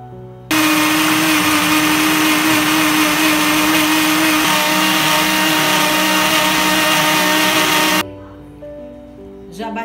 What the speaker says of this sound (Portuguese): E agora eu vou bater no liquidificador por 5 minutos.